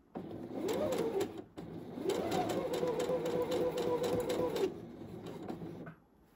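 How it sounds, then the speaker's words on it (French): A sewing machine stitching a men's boxer runs in two close, steady whirring bursts, the first short and the second longer, then stops and leaves near silence. "Et je couds doucement"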